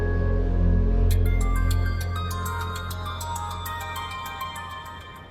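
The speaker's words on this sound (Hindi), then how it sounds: "देखो तुम्हारा फोन आ गया" A phone ringtone plays in a quick, repeating pattern of bright electronic tones over a low musical drone, starting about a second in and continuing steadily while the background slowly fades.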